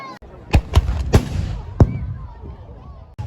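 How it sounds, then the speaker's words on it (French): Artillery cannon fire at a Waterloo battle re-enactment: four sharp booming blasts in quick irregular succession, then a fifth after a pause, each with a rumbling low tail, over crowd murmur and a voice talking. "Et l'artillerie alliée est en train de riposter."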